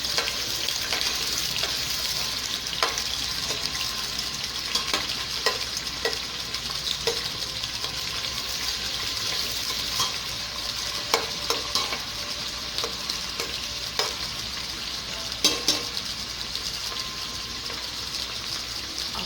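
Onions fry with a constant bright sizzle in a pot for Nigerian native jollof rice, with occasional utensil scrapes and taps, and a louder clatter near the end.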